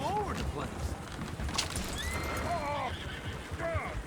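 Horses in the video game Red Dead Redemption II whinny several times, mid-distance, over hoof clatter and someone talking throughout.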